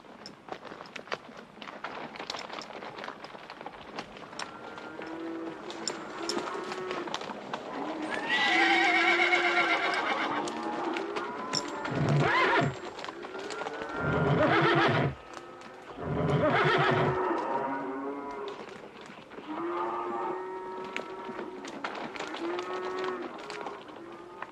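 Horses and cattle driven as livestock in a western film, with repeated neighs and whinnies over steady clip-clopping hooves, swelling into louder bursts of galloping in the middle, with faint voices around them.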